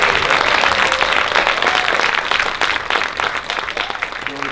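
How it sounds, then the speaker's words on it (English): Audience at a film festival panel discussion bursts into applause, dense sustained clapping from a crowd throughout, gradually thinning slightly toward the end. "Give them a warm round of applause."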